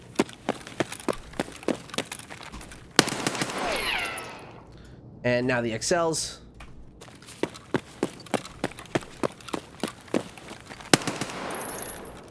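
Rapid gunfire from weapons in Escape from Tarkov, heard through a gaming headset: sharp repeated shots in bursts, with a stretch of footsteps and movement noise between, and a brief spoken line in the middle.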